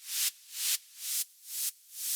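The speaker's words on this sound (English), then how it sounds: "if I sidechain it to the kick," Hissing white noise sidechained to a kick drum in Ableton Live, rising in smooth swells that cut off sharply on each beat, a regular pumping pattern of roughly four cycles with nothing else present.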